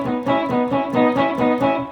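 An electric guitar plays a repeating R&B double-stop figure with palm muting and hammer-ons, rhythmic plucked pairs of notes sounding close and clean in a steady pulsing pattern.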